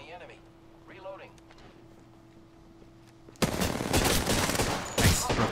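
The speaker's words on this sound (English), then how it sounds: "Opening fire on the enemy." Dense automatic gunfire in the battle royale shooter Apex Legends erupts suddenly after a quiet stretch, loud continuous bursts of shots with voices talking over it.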